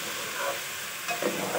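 Kebabs frying in a pan for a home dawat meal, a loud continuous sizzle close by with a few brief stirring scrapes near the end and no voices.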